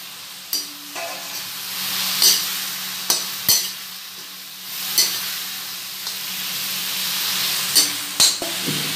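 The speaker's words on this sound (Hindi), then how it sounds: "मैंने अपना पनीर और सोयाबीन फ्राई किया था उन्हें उसमें डाल देंगे" Fried paneer and soya chunks stirred through a hot pan for biryani, a constant close sizzle broken by repeated sharp spatula scrapes and clacks at uneven intervals.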